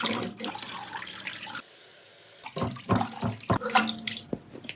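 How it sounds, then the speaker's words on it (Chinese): Pork belly is rinsed in clean water in the kitchen, with tap water splashing and sloshing near the mic. A steadier stream runs briefly in the middle before the handling splashes resume, with no one talking. "加入清水把它头洗干净，浮沫给它洗干净"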